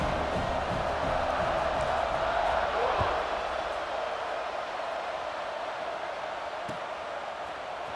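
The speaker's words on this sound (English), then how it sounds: "this crowd is feeling themselves after that last drive" Stadium crowd in EA Sports College Football 26 roaring during a kickoff after a touchdown drive, a steady broad wash of cheering that swells slightly then holds, with occasional thumps and talk over it.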